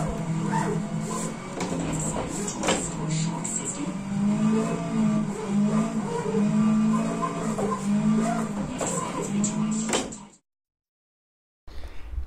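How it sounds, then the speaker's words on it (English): Rally car engine in the video game WRC 10, a droning, rising and falling motor note with gear changes that runs for about ten seconds and then cuts to silence. "In terms of car sounds, they're still the same for almost all cars"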